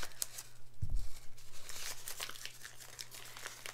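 Masking tape being torn and crinkled into pieces on a work surface, a brief crackling rip followed by soft rustling, close and fairly quiet.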